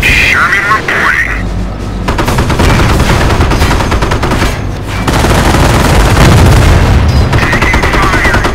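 Dense gunfire and explosions from the World War II strategy game Company of Heroes, with bursts of machine-gun fire and booms roaring continuously and loudly, broken by brief lulls, while radio-style unit voices call out over the combat.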